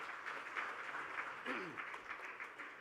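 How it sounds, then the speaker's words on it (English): Audience applause at a technology awards event, a faint steady patter of clapping lasting a few seconds, with a voice briefly heard over it. "Ladies and gentlemen, a round of applause for Nasir."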